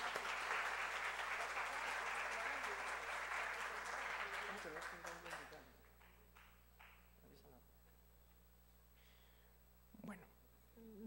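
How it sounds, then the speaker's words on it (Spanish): Applause for a magazine's work team at an anniversary ceremony for an economics faculty, a dense clapping crowd for about five seconds that then fades into quiet room noise with a few faint sounds. "quisiera que les diéramos un aplauso por el trabajo realizado"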